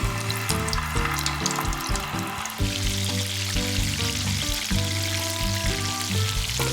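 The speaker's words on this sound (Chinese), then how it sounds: "将整理好造型的小肉锤下入160度的油锅中进行第一炸" Chicken drumettes shaped into little meat hammers deep-fry in 160-degree oil, a steady sizzle that carries under prominent background music throughout.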